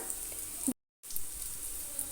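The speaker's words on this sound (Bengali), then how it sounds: "পেঁয়াজটাকে হালকা করে ভেজে নিচ্ছি পেঁয়াজ আধ ভাজা হয়ে গেছে আমি সামান্য পরিমাণে সর্ষের তেল দিয়ে দিলাম" Onion fries in mustard oil in a pan, a soft steady sizzle close by that is cut by a brief total silence partway through, with no talk.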